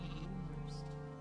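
Sheep bleat once in the Gothic II game world, a short nasal cry over a steady low ambient hum, moderately close and fairly quiet.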